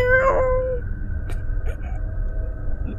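A person imitates a cat with a single drawn-out meow, followed by a few soft clicks and faint background noise.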